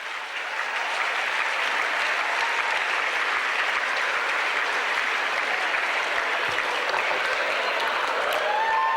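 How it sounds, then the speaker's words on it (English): A big crowd at a high school winter sports assembly breaks into loud, sustained applause, a thick, even wash of clapping that holds steady without pause for the whole stretch. "Keep your applause till the end, please"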